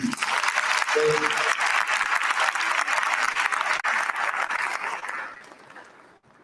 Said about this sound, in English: The applause is too feeble.